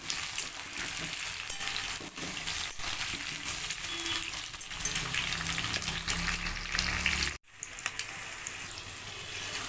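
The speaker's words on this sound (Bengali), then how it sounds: "এবারে আলুটাকে একটুখানি আমি পেঁয়াজের সাথে ফ্রাই করে নেবো। এটা একটু হালকা গোল্ডেন করে ফ্রাই করতে হবে।" Potato pieces and onions frying in a pan, making a steady sizzle with occasional stirring noises that break off briefly near the end, with no speech.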